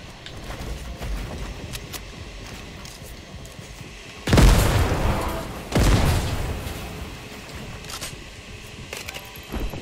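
Two heavy, loud gunshot blasts in the Fortnite video game ring out a second or so apart, each followed by a rumbling decay, over a quieter bed of faint clicks and ambience.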